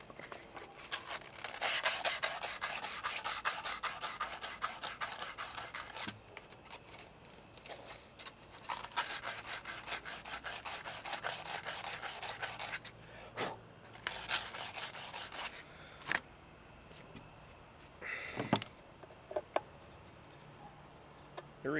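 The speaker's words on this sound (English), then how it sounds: "that's got to be sanded down just a little bit" Hand sanding hardened epoxy on an underwater GoPro mount, rapid rhythmic scratchy rubbing strokes in bursts, close up, with short pauses and a few sharp knocks near the end.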